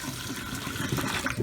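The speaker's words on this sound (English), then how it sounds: "Okay, dump this out." Water from a Mr. Coffee carafe is dumped into a sink, a brief, steady rushing splash heard close up.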